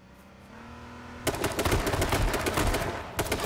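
Rapid bursts of gunfire from the battle royale game H1Z1, loud and close, breaking in after a low engine-like hum and continuing in a dense rattling stream.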